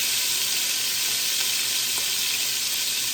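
Oxtail pieces browning in a hot pan give off a loud, even, unbroken sizzle that stays steady throughout, with no talking.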